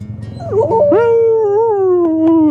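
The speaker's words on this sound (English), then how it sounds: "You gonna howl for me? Howl, howl." A dog howls loudly and close by, one long sustained wavering howl rising after a short whimpering lead-in, clear and alone.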